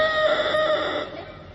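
A rooster crows once, loud and close, its drawn-out cock-a-doodle-doo call rising and then trailing away in a little over a second.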